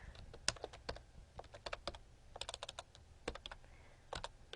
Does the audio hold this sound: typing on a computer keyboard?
yes